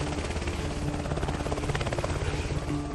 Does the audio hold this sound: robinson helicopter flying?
yes